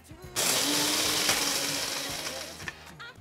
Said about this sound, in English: I just basically adding all the spices into the grinder and press the button.